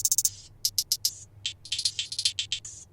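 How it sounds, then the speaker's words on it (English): A second hi-hat sample for a K-pop trap-pop beat, crisp bright ticks played alone in quick bursts and rolls, with a faint low hum underneath. "Add another hat to complement with the hat that I got before"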